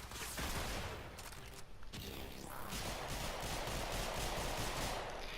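Mesa's weapons in the video game Warframe fire in a sustained, rapid fusillade, a dense loud stream of gunshots with a brief dip near the middle before the shooting resumes.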